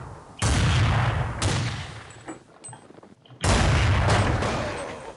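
An AWP sniper rifle fires in a shooter game, three heavy, booming shots spaced about a second or more apart, each with a long reverberant tail. The shots sound loud and close.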